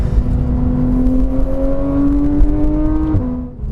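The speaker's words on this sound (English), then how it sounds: "this car is really loud. It has a little bit of drone with the exhaust" A 2015 Porsche 991.1 911 GT3 exhaust, a loud, close, droning engine note that holds a steady pitch and then drops away as the revs fall near the end.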